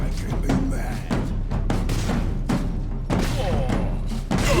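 Gunfire in the Space Marine video game, a steady run of loud thumping shots and impacts over a dense battle din, with voices talking underneath.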